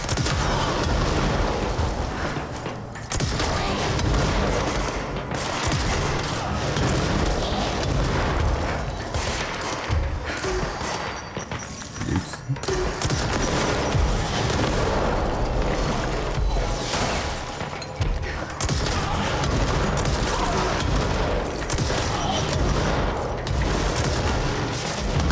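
Dense, continuous gunfire and booming bomb blasts from the action game Control, loud and sustained throughout with rapid bursts and heavy impacts layered over a mechanical clatter, and no talking.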